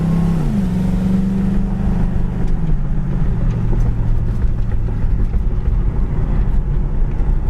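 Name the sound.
1978 Pontiac Trans Am driving on a bumpy road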